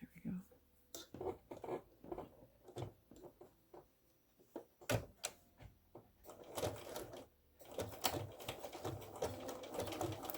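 Sewing machine running a blanket stitch around a fabric appliqué, with short bursts of needle clatter that speed up into a steady whir toward the end, heard up close with some soft handling noise.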